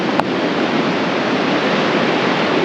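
Sea waves rush up onto the shore at a Trivandrum coastal spot, making a loud, continuous roaring surge with wind buffeting the microphone.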